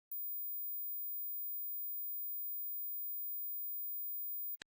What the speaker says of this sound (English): If you hear this high frequency sound